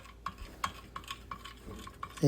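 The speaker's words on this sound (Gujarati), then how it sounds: "ચણાના લોટને પણ મિક્સ કરી દેવાનું છે." A spoon stirs through thick gram flour batter in a bowl, giving soft rhythmic scrapes and taps about every half second, with a louder clatter at the end.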